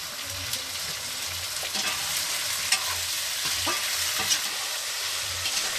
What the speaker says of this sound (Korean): 양념에 볶는 요리가 많습니다.